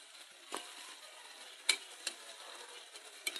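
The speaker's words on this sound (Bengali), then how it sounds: "তো এখন আমি এক এক করে সবগুলা ভেজে নেব" Potato and chicken snacks fry in hot oil with a soft, continuous sizzle, punctuated by a few sharp metallic clinks of a utensil against the pan, close and fairly quiet with no voices.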